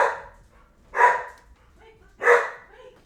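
A dog barks three times indoors, loud sharp single woofs spaced about a second apart, close by with quiet room noise between them.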